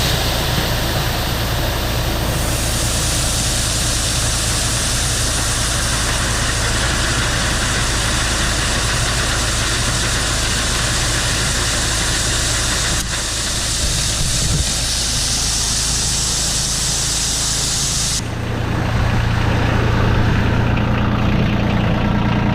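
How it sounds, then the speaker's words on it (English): Steady, loud tractor engine idling while running a grain auger, a constant low rumble that drops to a deeper, heavier hum near the end, with no talk. "So I'm gonna fire up the tractor and turn the auger on just a little bit"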